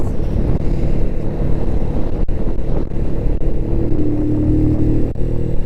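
A motorcycle engine runs steadily at close range, a low continuous rumble with some wind buffeting the microphone.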